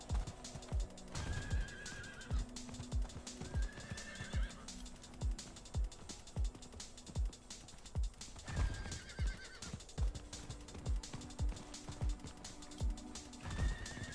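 A horse whinnies several times over steady clip-clopping hooves in the game Diablo 4, the neighs rising clearly above a busy background.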